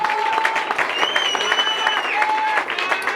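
A church congregation clapping in praise, a dense burst of many hands with a crowd murmuring and voices rising over it.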